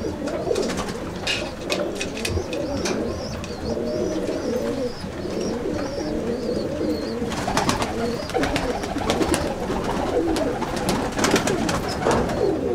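Kasuri pigeons coo repeatedly in soft, rolling phrases, with several birds overlapping at close range and faint chirps mixed in over a steady busy background.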